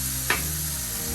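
Beef burger meat sizzles as it cooks, a steady close hiss with one brief scraping knock.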